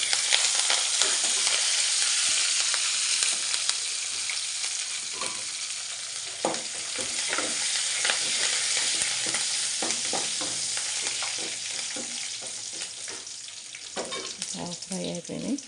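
Curry leaves fry in hot oil for a tempering for tamarind stew with amaranth leaves, giving a loud steady sizzle throughout with intermittent scraping stirs of a utensil in the pan.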